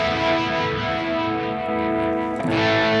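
Electric guitar played with a light crunch tone through a Headrush Prime modeling amp clone, a sustained chord ringing out then a fresh strum near the end, loud and close with no talk.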